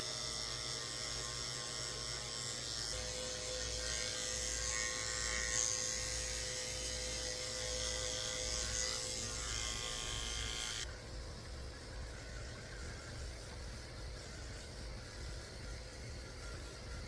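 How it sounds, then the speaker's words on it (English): Electric dog clippers fitted with a 30 blade buzz continuously while shaving a senior dog during grooming, a steady close hum whose tone shifts partway through as the blade moves over the coat. "shave underneath them with a 30 blade"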